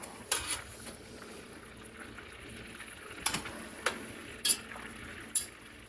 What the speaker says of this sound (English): we're going to flip the hamburgers one more time and we'll let it cook for just a minute